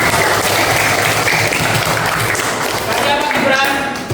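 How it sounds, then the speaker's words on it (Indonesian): Applause from a class of students for a student named Reva during a religious education lesson, a dense continuous patter of many hands with voices mixed in throughout. "tepuk tangan buat Reva"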